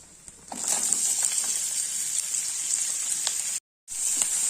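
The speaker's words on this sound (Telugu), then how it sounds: "ఈ ఆనియన్స్ బాగా వేగాలండి" Two sliced onions fry in a pan for an egg butter masala curry, giving a steady bright sizzle that starts after a faint moment, holds evenly, then breaks off briefly before resuming, with soft stirring scrapes.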